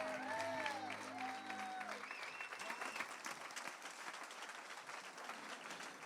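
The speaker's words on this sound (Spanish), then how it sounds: "Vamos a aplaudirle fuerte a Él." A congregation at a Spanish-language church service claps together, producing sustained, fairly faint applause, with brief keyboard-like tones sounding over it at the start.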